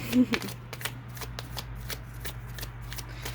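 Tarot cards being shuffled in a series of quick, crisp riffles and slaps, close by, with a low steady hum underneath.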